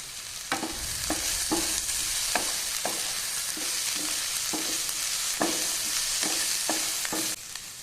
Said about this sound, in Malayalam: 1/2 ടീസ്പൂൺ ഉപ്പ്, 1/2 ടീസ്പൂൺ മുളക് പൊടി, 1/2 ടീസ്പൂൺ കുരുമുളക് പൊടി എന്നിവ ചേർത്ത് ഒന്നുകൂടി ഒന്ന് മിക്സ് ചെയ്ത് കൊടുക്കാം.